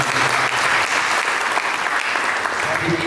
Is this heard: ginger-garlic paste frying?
no